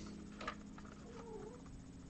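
A house cat gives a short meow, with a faint high cry near the start and a soft falling call a little later, quiet over steady low background hum while Lego is being built nearby.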